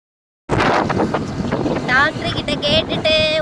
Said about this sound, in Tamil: பக்கத்தில் போர் போடுறாங்க, அதனால சவுண்டு அதிகமாக இருக்குது